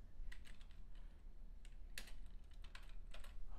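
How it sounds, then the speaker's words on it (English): Quick tapping on a computer keyboard, a short run of light, close keystrokes in uneven bursts over a low background hum. "start typing in"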